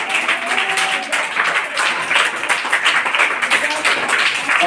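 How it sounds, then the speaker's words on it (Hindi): A classroom audience at a children's day school quiz competition claps loudly and continuously for participants, a dense, bright patter of many hands with some voices mixed in. "इनके लिए जोरदार ताली बजनी चाहिए"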